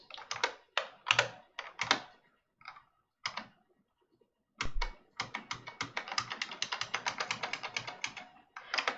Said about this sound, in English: pressing harder means you get to kill them with a more satisfyingly loud key click, especially with a keyboard like this